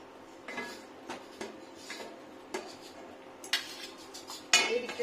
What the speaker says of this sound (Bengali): এবার ঢাকা দিয়ে নেবো